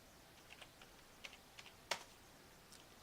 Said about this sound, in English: now I'm typing letters, they're being received